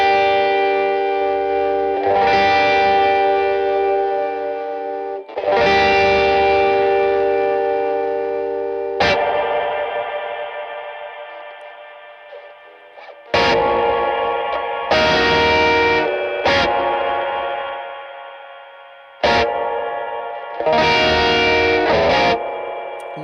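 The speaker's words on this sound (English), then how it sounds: "It even just completely mangles your like clean tone right there with like this really like ragged distortion" Electric guitar played through a Boss RV-200 reverb pedal set to a degraded lo-fi reverb with ragged distortion, loud sustained chords that ring out and decay, then several shorter stabs, alone without talk.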